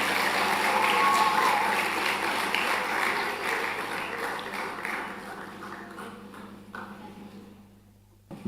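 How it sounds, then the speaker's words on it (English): Applause from the audience at a primary school graduation ceremony for the graduates, a broad wash of clapping that gradually thins and fades out toward the end. "Let's give another round of applause for the graduates."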